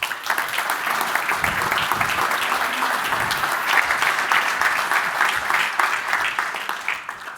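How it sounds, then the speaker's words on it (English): Audience applause at an investment conference in Austria, a dense, sustained patter of many hands clapping evenly throughout, moderately loud and without voices on top. "Please welcome them with a round of applause."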